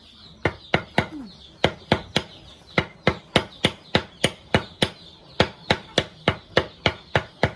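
Something is pounded in by hand with a long, steady run of sharp, close knocking blows, about three per second and evenly loud, with faint outdoor background and no talking.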